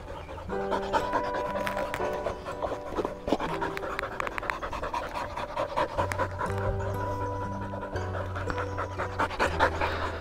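A stray dog, dehydrated from running along an open road, pants rapidly and steadily up close for several seconds, with no talk over it.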